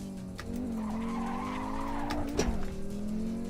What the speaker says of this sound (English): Sounds like a much more muffled version of the rally car.